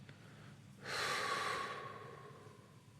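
A single long, slow exhale during a relaxation exercise, soft and close, swelling after a moment of quiet and then tapering off gradually.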